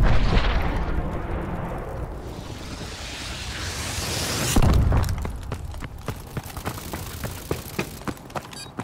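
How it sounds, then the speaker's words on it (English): Missile strike explosions in Call of Duty Advanced Warfare: a long rumbling roar that swells to a heavy boom, then a scatter of sharp crackling impacts and debris, loud and close. "Friendly missile strikes inbound."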